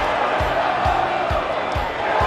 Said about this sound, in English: A massive night, huge crowd, massive atmosphere.